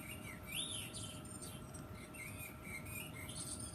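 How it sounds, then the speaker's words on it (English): A children's push-button sound book plays recorded birdsong of quick chirps and tweets, faint and thin over a low steady hiss, with no voices. "you get to hear the pretty bird sounds"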